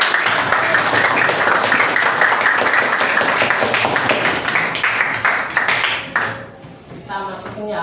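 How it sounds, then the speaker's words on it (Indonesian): Students in a classroom break into sustained clapping, a dense, steady patter that fills the room for about six seconds before thinning out as a few voices speak near the end. "Tepuk tangan dulu dong."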